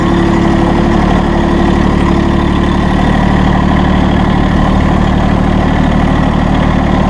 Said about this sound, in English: Driving around in my new Massey Ferguson